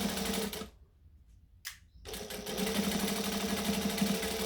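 A sewing machine stitches a McCall's M6442 jacket slowly over pins, whirring steadily up close, pausing briefly for about a second, then resuming its continuous mechanical hum.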